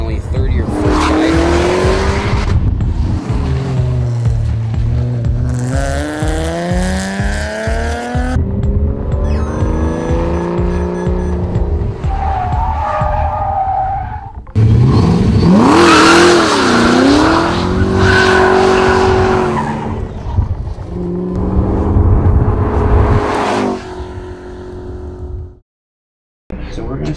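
A car accelerates, slows and turns hard, recorded for Need for Speed: Carbon, with engine revs rising and falling through gear changes and tire squeals through the turns, loud and close, before dropping away briefly near the end.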